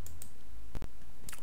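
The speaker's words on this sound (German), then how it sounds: "Ich klicke jetzt mal hier ganz kurz drauf." A few quiet, sharp computer mouse clicks spaced out over a faint room hum, made while navigating a financial market stream on screen.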